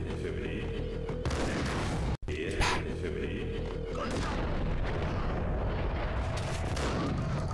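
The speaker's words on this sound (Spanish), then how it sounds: "gracias por dar dos tiros, Máximo Pino" Gunfire and booming blasts from the Max Payne video game, with heavy shots and explosions crashing over a dense action soundtrack, including one abrupt cut to silence.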